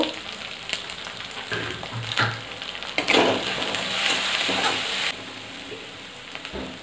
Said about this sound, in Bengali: ভেজে নেওয়া টমেটো, টমেটো ভাজতে লবণ দিয়ে দিচ্ছি।